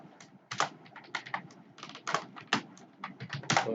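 Keys clack on a computer keyboard as code is typed, close and crisp, in quick irregular bursts of keystrokes with short pauses between them.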